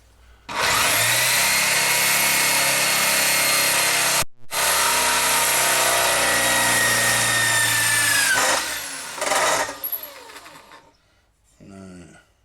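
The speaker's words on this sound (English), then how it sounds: "drill bit's gone a bit blunt" A power drill with a blunt bit bores a hole to fit an IEC socket in a CB radio case. The motor whines loud and steady for about eight seconds, pauses briefly, then winds down as the bit grinds through.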